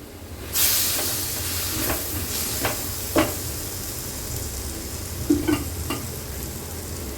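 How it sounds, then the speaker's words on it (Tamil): Chickpeas sautéing in a pan for kadalai curry give a steady low sizzle and hiss, broken by a few sharp scraping stirs and clinks at intervals, close by with no voices. "இப்போது கடலையும் சேர்ந்து நல்லா வதங்கிடுச்சு."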